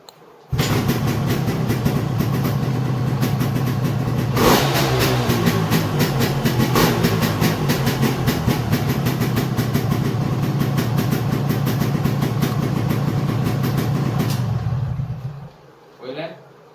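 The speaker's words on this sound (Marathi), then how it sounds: "एक नाल्यार 2 किक पळया चालू करून दाखयता तुमकां" A vintage motorcycle engine catches suddenly on a kick-start and runs with a steady, throbbing rumble for about fifteen seconds before cutting out, with voices over it.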